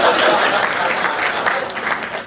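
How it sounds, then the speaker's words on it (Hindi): An audience at a Hindi comedy poetry gathering (kavi sammelan) claps steadily in a dense, continuous burst of applause, loud and close, with no other sound standing out. "एक बात तालियां बजाइए"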